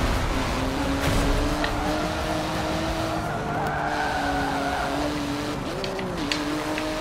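A G2 RS race car is driven in the Forza 7 racing video game. The engine drones steadily with pitch sweeps through gear changes and some tire skid, heard continuously without talk.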